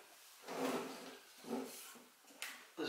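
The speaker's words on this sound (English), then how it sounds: "On the back there are a couple of drawers which move." Small wooden drawers on the back of a Punch and Judy puzzle box slide back and forth in a few soft, close rubbing strokes, ending with a light knock.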